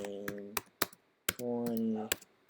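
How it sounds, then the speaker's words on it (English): Computer keyboard typing: a handful of sharp, separate key clicks in irregular bursts, with a person talking between and around them. "I'm probably typing it in wrong."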